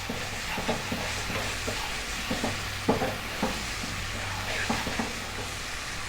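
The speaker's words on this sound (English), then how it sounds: "stay on this heat and stir constantly now for 3 minutes. We really want to cook this tomato paste out" Tomato paste and spices sizzle steadily in a pan for a beef kofta dish, with repeated scraping stir strokes and a low background hum, no talking.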